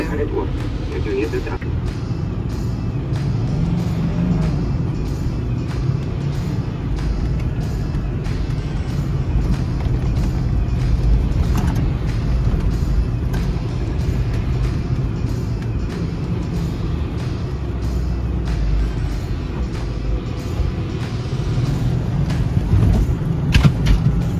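A car climbs over sand dunes in the Namib Desert, its engine a steady low drone with occasional knocks and rattles throughout, while people talk over it.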